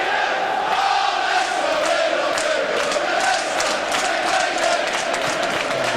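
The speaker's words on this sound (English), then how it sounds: "And it's Leicester, we love you, the chant at the moment" Leicester City football crowd at a 1993/94 home match against Charlton Athletic chanting "Leicester, we love you": a dense, sustained mass of voices singing in unison, steady and loud throughout.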